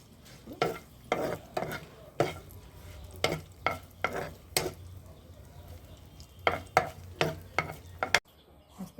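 Garlic cloves and dried red chilies tossed in a pan for a black gram dal chutney, with repeated stirring scrapes and a soft sizzle that come in short, steady bursts close by.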